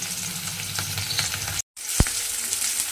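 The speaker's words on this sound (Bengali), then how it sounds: "এইভাবে মাছগুলো দিয়ে কিন্তু খুব ভালোভাবে আমি এপিট ওপিট করে লাল করে ভেজে নেব" Pieces of fish frying in oil for a Bengali begun vola jhal, a steady close sizzle with a brief dropout midway and a sharp clink of the pieces being flipped, no talking.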